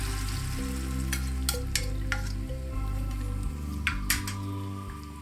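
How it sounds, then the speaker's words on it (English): A ginger shrimp marinade hits a hot pan and sizzles steadily, a continuous crackling fry with occasional clinks of a utensil stirring, no voices. "Add the marinade to the pan."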